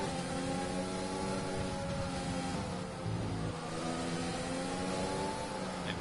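An F1 race car in a racing video game pulls into the pit lane, its steady mid-pitched engine drone holding loud and constant with a brief dip midway.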